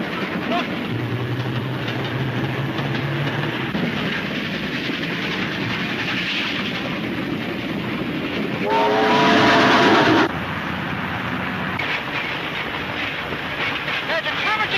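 Train sound effect from an old radio adventure serial, a steady rolling rumble with clattering wheels throughout and a brief louder whistle-like burst near the end, with faint voices mixed in.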